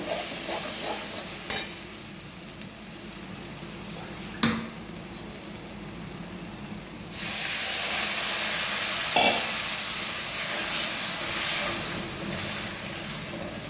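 Water is poured into a pan of spiced duck egg curry, setting off a loud, steady hiss and sizzle after some quieter stirring and a few clinks, heard close with no talking.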